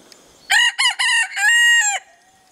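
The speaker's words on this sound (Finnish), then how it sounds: "Sano vielä kukkokiekko" A single loud rooster crow rings out close by, broken into several rising and held notes, with quiet surroundings before and after.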